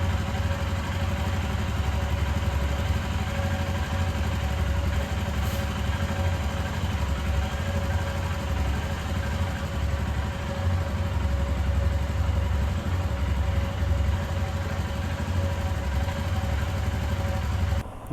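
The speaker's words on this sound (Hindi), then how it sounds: "अभी मैं कोल्ड स्टार्ट कर देता हूँ" A motorcycle idles after a cold start in a parking area, its engine a steady, even mid-pitched thrum with a faint rattle and vibration, close and constant until it cuts off abruptly at the end.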